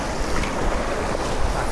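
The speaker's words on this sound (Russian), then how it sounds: "это просто отбойные уже волны" Rough rapids on the Bely Iyus river surge around a raft, with a constant broad rush of churning water and wind buffeting the microphone, no voices heard.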